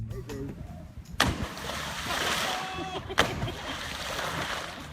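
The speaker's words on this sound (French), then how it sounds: "le moment où tu as décidé de plonger pour la première fois dans la rivière avec un cygne" Someone diving into a river, with two sharp splashes about two seconds apart followed by sloshing water, while a voice talks over it.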